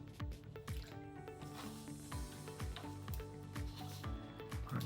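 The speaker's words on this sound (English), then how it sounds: "I'm just going to pop those into the cold water." Freshly cut potato slices for homemade crisps dropped into a bowl of cold water, a run of soft, close wet plops and splashes at an irregular rhythm, quiet and with no talk.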